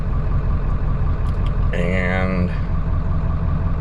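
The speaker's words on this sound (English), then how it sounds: "It's idling fine." A 1996 Ford F250 with a 7.3 Powerstroke diesel idles steadily as a low, continuous rumble throughout, with someone speaking briefly over it partway through.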